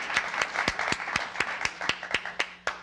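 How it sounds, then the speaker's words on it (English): Sparse audience clapping at a poetry recitation event, with distinct individual claps in an uneven rhythm, fairly close and moderately loud, no voices over it. "Give them a round of applause."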